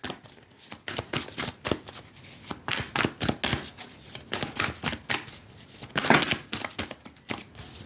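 Tarot cards being shuffled by hand, a steady run of crisp riffling and slapping bursts in quick rhythm, close and clear with no talking.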